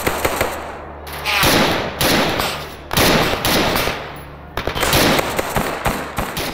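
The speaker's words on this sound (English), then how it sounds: "the second you start hearing the crackle of far-off gunfire" Crackling distant automatic gunfire in a Stalker video game, rapid bursts of shots repeating through the whole stretch with brief gaps between volleys, no talk.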